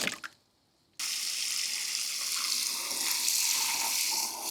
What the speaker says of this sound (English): I'm gonna try and pour all the fibers into a sieve and then change the water